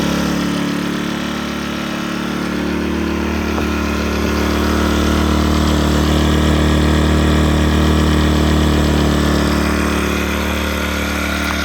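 A Sportsman GEN1000i inverter generator runs steadily and fairly quietly with its choke at about half, a constant mid-pitched engine drone with no talk.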